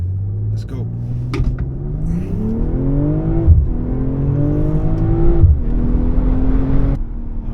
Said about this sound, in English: Launch control on the M340i.